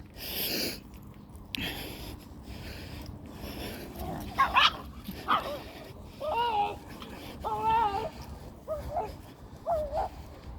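A dog named Max sounds off during a morning walk while nearby pug dogs strain at their lead, giving a string of short yips, whimpers and snorts, fairly close, with a person talking over the start.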